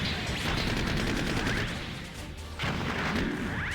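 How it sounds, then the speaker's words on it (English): Rapid, dense fire from a Zaku machine gun in the Gundam Breaker 3 video game, loud and close, with a brief dip midway before the burst resumes over rumbling battle noise. "I can fire the Zaku machine gun off the sub-arm"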